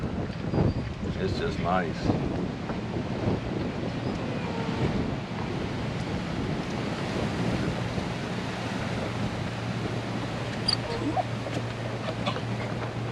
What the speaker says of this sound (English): it's windy and shaded